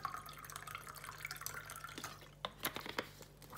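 Vinegar is poured into a part of a Breville/Sage espresso machine, making short splashy trickles and drips. The liquid sounds are close and fairly quiet, with a few sharper splashes toward the end.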